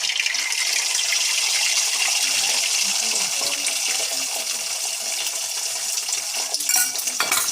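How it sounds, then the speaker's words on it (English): An egg frying in a hot pan, giving a continuous bright hiss and sizzle that holds steady throughout, with a few small clinks of utensils near the end. "So put your egg into the pan."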